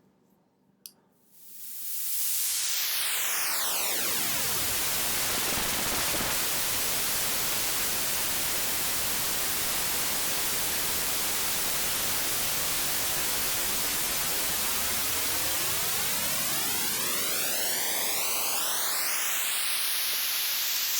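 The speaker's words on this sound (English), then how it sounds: "What that should sound like to you is basically a filter sweeping through white" Loud white noise with a filter sweeping through it, the resonant notch gliding down, then back up over a long steady hiss after a faint click and brief quiet at the start.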